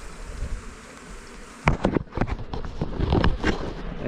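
Honey bees from a colony with a drone-laying queen being shaken out, a dense buzzing swarm close by with sudden bursts of thumps and knocks as frames are shaken.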